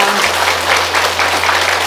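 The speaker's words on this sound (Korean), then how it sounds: "박수." A congregation at a Sunday Buddhist service at a temple breaks into loud, sustained clapping, many hands together in a steady wash over a low constant hum.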